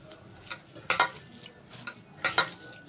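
Fish roe batter with salt and rice flour is mixed by hand in a bowl, giving soft intermittent clinks and wet squelchy taps in two short bursts, close and fairly quiet.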